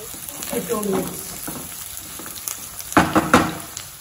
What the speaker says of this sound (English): curry leaf, green chilies, fry for 2 minutes